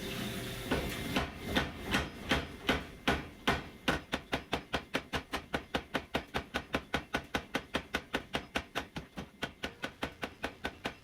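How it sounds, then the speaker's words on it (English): A hammer planishing hot metal at a forge: sharp, ringing blows starting loose and irregular, then settling into a fast, even rhythm of dozens of close strikes with no talk. "Another heat of planishing here."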